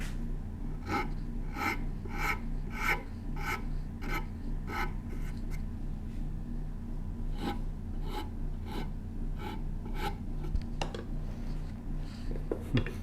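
A wood rasp works a piece of wood held in a clamp, cutting in a steady run of rough, rhythmic strokes with short pauses between passes, close and fairly loud over a low background hum.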